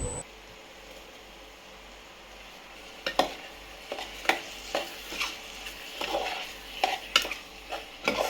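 Prawns fry in a pan with tomato and are stirred, a soft sizzle carrying a series of scraping, clanking utensil strokes in the second half, close but fairly quiet, with no talk.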